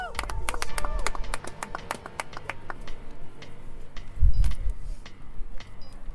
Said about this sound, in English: One more round of applause for Mike Madden